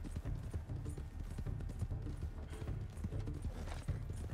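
A horse in Red Dead Redemption 2 moves at speed, its hooves clip-clopping in a rapid, continuous rhythm that sounds close and steady throughout, with no talking.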